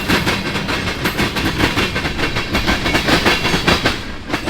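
A BNSF freight train rolls by directly overhead, loud and close, with a continuous roar and rapid rhythmic clickety-clack of wheels over rail joints throughout.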